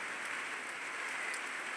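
Heavy rain falls during a storm that flattened crops, a steady, even hiss of dense drops heard briefly and alone.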